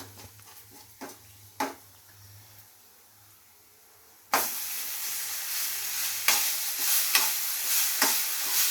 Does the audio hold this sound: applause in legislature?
no